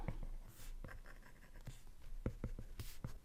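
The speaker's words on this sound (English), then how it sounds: "Let's erase these lines." Pencil lines being rubbed out with an eraser on paper while drawing a human skull, close and fairly quiet, with scratchy strokes in short bursts and brief pauses between them.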